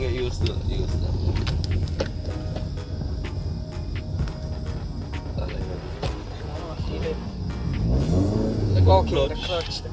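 A manual stick-shift car drives along, its engine humming steadily with road noise, then revving up as it accelerates near the end, while people talk inside the cabin over the engine.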